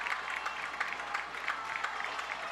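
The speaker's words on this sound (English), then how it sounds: "And Fairview and their crowd are starting to amp up the noise." A football crowd at a high school game against Fairview roars and cheers in a steady, noisy swell that comes in repeated pulses, with no clear voices standing out.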